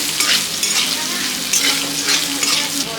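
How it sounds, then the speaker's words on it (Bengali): Cumin powder frying in a hot pan, giving a steady close sizzle with soft scraping strokes from stirring. The sound is continuous and no one talks. "তো জিরা গুঁড়ো দিয়ে দিলাম। এটা ভেজে নিই।"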